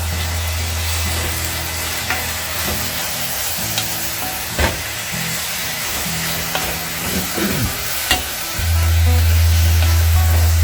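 Food fries in a pan with oregano and added oil while being stirred, a steady broadband sizzle with scattered scraping clicks and a louder burst near the end.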